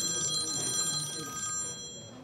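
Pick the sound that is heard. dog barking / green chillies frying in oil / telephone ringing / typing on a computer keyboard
telephone ringing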